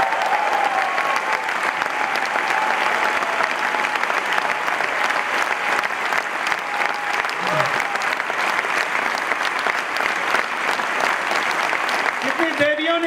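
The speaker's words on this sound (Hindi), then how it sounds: "जोरदार तालियां किरण के।" A large audience applauds in dense, continuous clapping that stays loud and even throughout. Brief voices cut in near the end.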